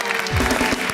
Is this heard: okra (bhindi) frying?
no